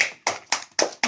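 Four loud, evenly spaced hand claps close by at a small home birthday surprise, each a sharp slap followed by a short decay, with no voices.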